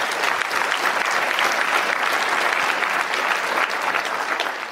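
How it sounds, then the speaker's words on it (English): Audience applause at a live Q&A event: a dense, steady burst of clapping from a crowd, loud and sustained for a few seconds before tapering slightly at the end. "Clap that up."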